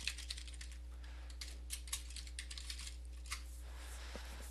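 Light typing on a computer keyboard, a few scattered close key taps over a steady low electrical hum, quiet and without speech.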